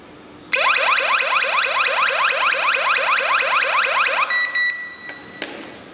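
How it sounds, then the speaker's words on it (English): A wireless home alarm system siren wails in rapid repeating rising sweeps, loud and close, for about four seconds, then ends with a few beeps. "When the intruders trying to get into your house, the system will alarm immediately."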